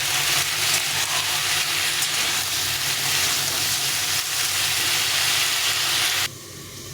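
Winter vegetables sizzle and fry steadily in a hot pan with salt and turmeric, a loud continuous hiss with faint stirring scrapes, cutting to a quieter background near the end.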